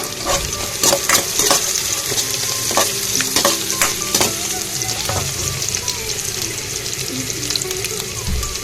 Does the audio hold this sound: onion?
yes